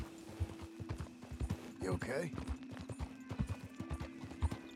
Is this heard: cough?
no